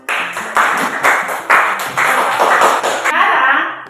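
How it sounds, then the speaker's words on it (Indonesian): A classroom group applauds on cue, with a steady run of brisk, fairly close clapping that rises and falls in rhythmic bursts for several seconds before tapering off. "berikan aplaus"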